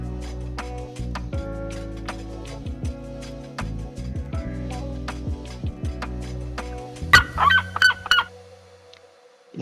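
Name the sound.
red-legged seriemas calling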